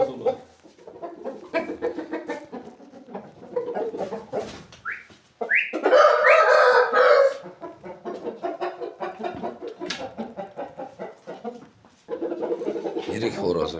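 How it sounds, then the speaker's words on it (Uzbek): A large, heavy rooster clucks repeatedly and lets out a loud, close crow, with other fowl calling around it in a farmyard while people talk nearby. "Yirik xo'roz ekan."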